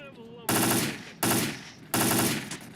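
Three loud, sharp bursts of automatic gunfire from the video game S.T.A.L.K.E.R. Clear Sky, each a short rapid-fire volley separated by brief pauses.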